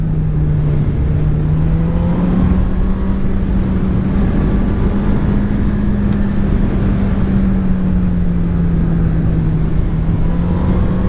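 A 2018 Honda CB1000R motorcycle under hard acceleration, its engine note a loud, steady droning tone that rises and holds, heard from the rider's position with wind rush throughout.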